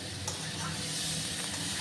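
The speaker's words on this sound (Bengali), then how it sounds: "আমি আলুগুলোকে ভাজবো, ঝুরি ঝুরি আলু ভাজা দিয়ে আমার ফ্রাইড রাইস খাওয়াটা খুব ভালো লাগে" Shredded potatoes fry in a pan, producing a brief, even, close hiss of sizzling oil with no distinct pops.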